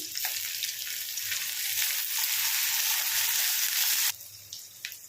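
Cut onions frying in a pan for a broad bean and tomato curry give a loud, steady sizzle that holds for about four seconds, then drops to a softer crackle with a few brief spurts.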